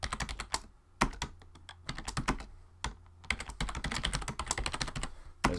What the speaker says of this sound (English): So I'll type this in all uppercase.